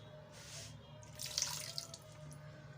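Water is poured into a chicken pakora mixture, a short splashing trickle that swells briefly then fades, fairly faint with no talk.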